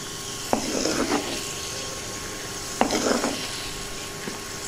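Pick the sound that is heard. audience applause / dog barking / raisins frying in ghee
raisins frying in ghee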